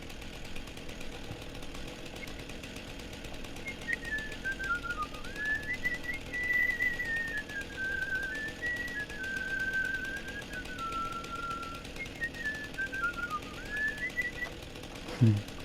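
A modded vehicle horn in a video game sounds as a wavering whistle-like tone that slides up and down over a constant mechanical drone, with a sharp knock at the end.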